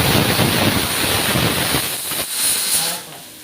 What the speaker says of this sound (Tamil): வெங்காயம், பச்சை மிளகாய், இது வரமிளகா எல்லாத்தையும் நம்ம இப்போ ஆட் பண்ணி தான் கிண்டுறோம்.